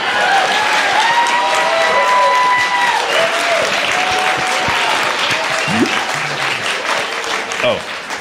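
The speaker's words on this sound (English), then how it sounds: "can we give a round of applause for Peter's mom for emceeing this evening?" A live audience at a camp's 75th anniversary celebration breaks into sustained, loud applause that fills the whole stretch, with a few voices and cheers mixed in and tapering slightly toward the end.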